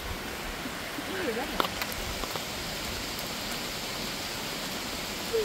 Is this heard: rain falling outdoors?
yes